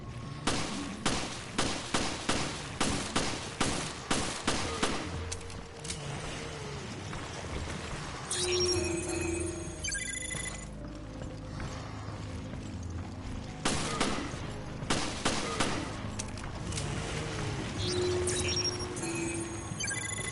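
Jessica's pistol in Resident Evil Revelations fires rapid, evenly paced shots at enemies: a quick run of loud cracks at the start, a lull with other game noises, then another fast volley.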